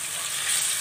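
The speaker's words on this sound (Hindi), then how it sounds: "गार्लिक और जिंजर पेस्ट और ग्रीन चिली पेस्ट ऐड करेंगे और सौते करेंगे" Onion with garlic paste, ginger paste and green chilli paste sautéing in hot oil for spicy Singaporean rice, a dense, even sizzling hiss heard up close with no voices.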